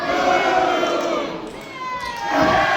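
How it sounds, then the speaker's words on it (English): Spectators cheer and shout loudly at an EWA wrestling cage match in Maryland, a dense, steady roar of crowd noise that swells again toward the end. "The crowd letting you know which way they're with it."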